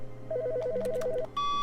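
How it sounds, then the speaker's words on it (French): One fast warbling ring of an office telephone in The Stanley Parable, clear and close, cut off by a steady electronic tone as the call is picked up. "le téléphone sonne"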